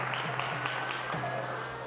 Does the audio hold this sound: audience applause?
yes